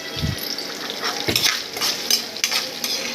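Green chillies fry in a pan as a spatula stirs them, giving a steady close hiss broken by a few scraping clinks of metal on the pan, with no talking.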